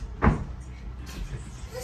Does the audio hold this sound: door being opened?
yes